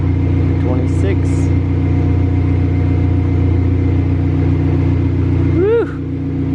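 A Dodge SRT4 engine runs hard on a dyno, a loud sustained droning roar with a steady low hum, a couple of brief higher chirps and a sweeping whine near the end before the level drops.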